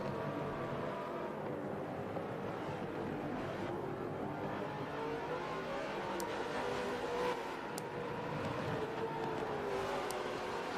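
Supercars race around Laguna Seca, their engines blending into a steady, loud roar that rises and falls as the cars accelerate and pass. Sharp higher whines cut through now and then, with no talking over the noise.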